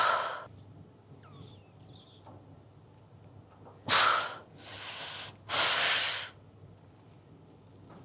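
Sharp, forceful exhalations during a cable pulldown in a gym, three loud breathy bursts in the second half after a quieter stretch, close to the mic.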